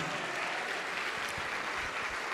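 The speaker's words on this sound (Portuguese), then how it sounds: "Vamos aplaudir mais ao nome de Jesus." A church congregation at Igreja Paz e Vida applauds in a continuous, dense roar of many clapping hands, fairly steady in level and heard alone without speech.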